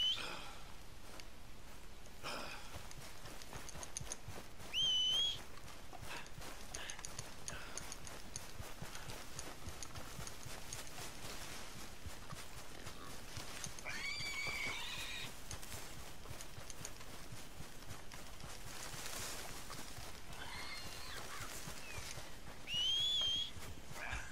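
A horse in the video game Red Dead Redemption 2 gives faint neighs and whinnies, with soft hoofbeats and a few short whistles at intervals. All of it sits low in the game's ambient soundscape.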